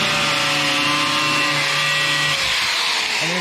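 A power saw cutting, loud and close, with a steady high-pitched whine and harsh broadband grinding running throughout without pause.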